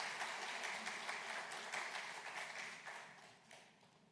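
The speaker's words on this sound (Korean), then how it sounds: "자, 우리 크게 우리 감사의 박수 하겠습니다." A church congregation applauds together after a closing prayer, a steady, dense patter of many hands clapping at moderate distance for the whole span, tapering slightly toward the end with no speech over it.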